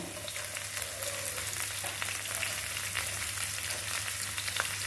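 Onions sizzle steadily in a hot pan while cooking dragon chicken, a constant crackling fry with small pops and a low hum underneath.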